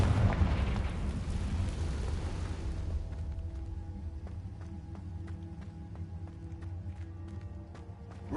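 A Confringo blasting spell goes off in the Hogwarts Legacy game: a loud, deep booming explosion for the first three seconds, then fading into a low rumbling tail with scattered faint clicks and ringing tones.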